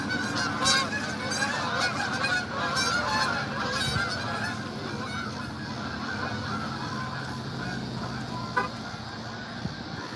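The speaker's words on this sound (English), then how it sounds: "Here comes the geeses." Geese honk repeatedly along a street lined with parked cars, their calls steady and fairly close over continuous outdoor traffic and street noise, with a sharper single honk near the end.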